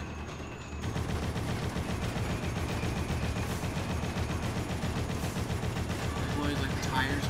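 Mounted turret gunfire in the Dead Rising game, a dense continuous barrage of rapid shots rattling steadily for several seconds, loud and sustained with game noise layered underneath.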